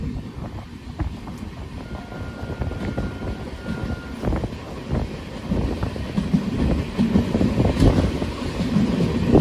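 A night passenger train runs on the Kolkata to New Jalpaiguri line near Katwa Junction, a steady rumbling roll with faint rattles and wind buffeting that grows louder toward the end.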